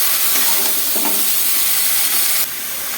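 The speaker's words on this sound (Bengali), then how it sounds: "এই সবজি দিয়ে এবার নুন হলুদ দিয়ে ঢেকে দেবো।" Vegetables sizzle in a hot pan with salt and turmeric, a dense, even hiss that stays close and constant throughout, with a slight drop near the end.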